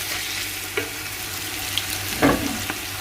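Browned onions with turmeric and other spices frying in a pan for mutton pulao, giving a steady close sizzle with a few sharper pops and stirring clatters, and no talking.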